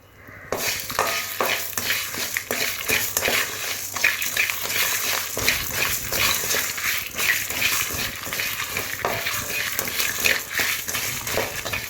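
Dried fish fries in oil in a pan for village-style karuvadu kolambu, giving a steady close sizzle with repeated scraping stirs of a spoon against the pan.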